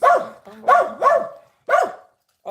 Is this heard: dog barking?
yes